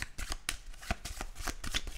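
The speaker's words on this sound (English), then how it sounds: "Now I have to shuffle" A deck of cards for a tabletop board game is shuffled by hand close up, a quick run of crisp riffling flutters and soft slaps lasting about two seconds, with no voice over it.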